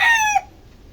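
A Gilmore Sweater gamecock rooster crows once, loud and close, its harmonic call holding steady before cutting off abruptly into quiet background.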